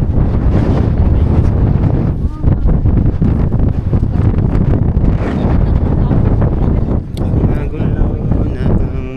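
Strong, continuous wind buffeting the microphone at night in Tops, Cebu City, loud and rumbling throughout, with faint voices partly buried beneath the roar.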